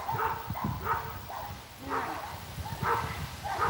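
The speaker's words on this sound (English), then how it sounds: "Dogs are barking next door." Dogs bark repeatedly at a distance, a series of faint, muffled barks and yips spaced irregularly over a few seconds.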